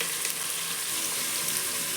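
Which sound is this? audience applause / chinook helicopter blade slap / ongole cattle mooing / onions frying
onions frying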